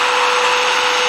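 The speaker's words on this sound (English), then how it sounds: "I'm just going to sand this with the power sander" A power sander with 220-grit paper smooths a turned wood angel ornament on a lathe, giving a steady, loud, high-pitched whir with a constant tone and no break for the full second.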